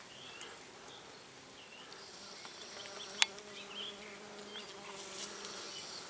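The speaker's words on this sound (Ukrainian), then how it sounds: "Липа гудить і від і від джмелів, і від бджоли." Bees and bumblebees buzz steadily among linden blossoms, a soft droning hum with individual insects passing close, plus a faint bird chirp in the background.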